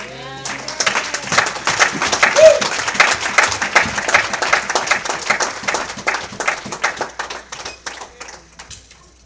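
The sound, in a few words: applause in church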